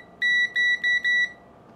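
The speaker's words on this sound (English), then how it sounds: "That's the mode where it beeps when the 2 leads touch each other." A multimeter in continuity mode, with its two leads touching, gives four short, bright electronic beeps in quick succession, loud and close, with near silence before and after.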